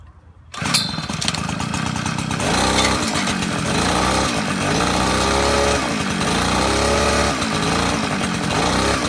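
A Murray rototiller with a TC200 engine starts up and runs. It gives a loud, close, continuous small-engine roar with a rough, buzzing drone and slight shifts in pitch, and no one talks over it.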